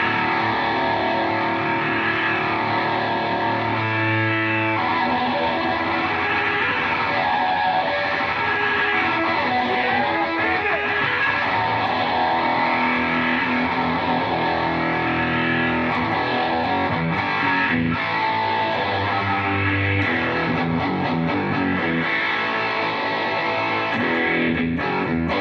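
Electric guitar run through heavy distortion alongside phase effects, a long stretch of dense, saturated chords and riffs played continuously and loudly with no talking.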